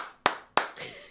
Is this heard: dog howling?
no